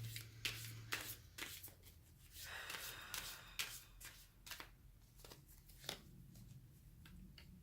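Tarot cards shuffled by hand in a quiet room, a run of crisp riffling bursts and soft slaps repeating unevenly, close and fairly quiet, with no talking.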